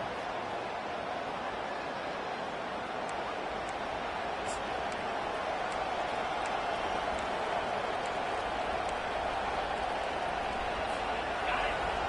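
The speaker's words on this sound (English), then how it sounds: "The roar of the crowd trying to fuel this defense to keep them pinned in their own end." Crowd roar in an American football video game, a steady dense wash of cheering noise that holds level and loud from start to finish without break.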